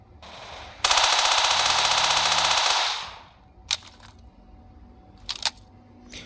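A long, rapid burst of automatic rifle fire in an offline shooter video game lasts about two seconds, loud and close, followed by a few single sharp shots with quiet gaps between them.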